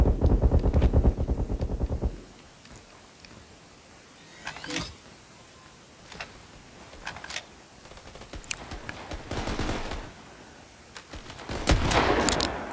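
Shotgun blasts in the mobile shooter Battle Prime: a rapid burst of shots at the start, then sharp separated shots spaced a few seconds apart between quieter stretches of in-game sound.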